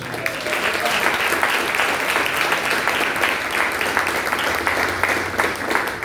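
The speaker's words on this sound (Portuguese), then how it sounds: "Aplauda ao Senhor" A church congregation claps loudly and steadily for around six seconds, a thick wall of hand-clapping from a large gathering with a low sustained musical tone beneath.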